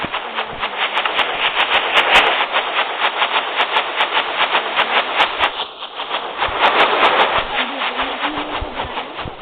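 Fire charges are shot over and over in Minecraft, a steady rapid stream of whooshing pops that runs through the whole stretch at a constant loud level with no talking.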